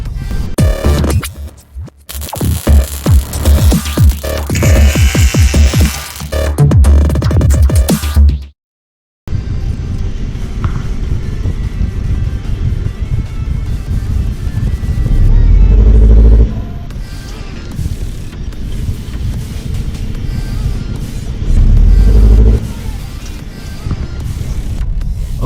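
Car engine accelerating with one spark plug misfiring, a loud continuous engine drone that surges and rises twice in the later half, after an opening stretch of rough, noisy rumble and a brief dropout.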